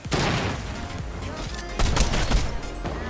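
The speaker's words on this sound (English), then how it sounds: "Oh my god, everyone's getting sniped!" Sniper rifle gunfire in the Fortnite video game, sharp loud shots cracking over a busy battle din, with a heavier burst of reports toward the end and a player talking over the action.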